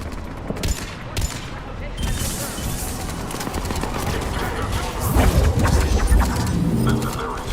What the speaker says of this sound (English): Taking enemy fire from position